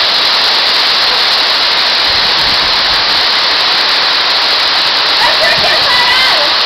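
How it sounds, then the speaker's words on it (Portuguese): Véu de Noiva waterfall in Dois Córregos, São Paulo, more than 30 metres high, roars as a loud, steady broadband rush of falling water throughout, with some faint higher sounds near the end. "Cachoeira Véu de Noiva, 2 córregos."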